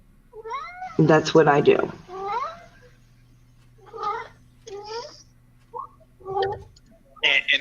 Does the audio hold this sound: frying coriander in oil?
no